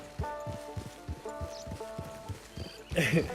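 Horse hooves clip-clop steadily at a riding pace in Red Dead Redemption 2, heading off road, a regular thudding rhythm heard under someone talking, with a louder rustling burst near the end.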